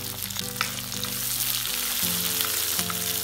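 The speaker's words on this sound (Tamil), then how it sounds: "இதை சேர்த்து நல்லா வதக்கி விட்டுக்கலாம்" Onions, garlic and ginger sizzle and fry steadily in a hot pan, a loud continuous crackle with faint stirring.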